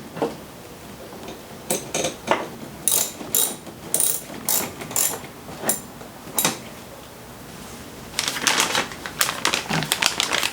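Ratchet tightening the two mounting bolts on a Ford Ranger pickup's clutch master cylinder, giving a series of sharp, close clicking strokes in bursts with brief pauses, no talking.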